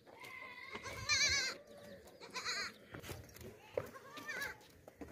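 A large goat bleats several times in short wavering calls, fairly near, among other livestock noises, with people talking quietly in the background.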